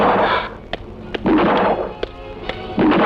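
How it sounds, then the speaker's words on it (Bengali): Gunshots in a Bengali action film scene crack out as several sharp, spaced bursts over a rumbling, noisy background, loud and close, with no talking. "যেখানে যাই খালি গুলির শব্দ"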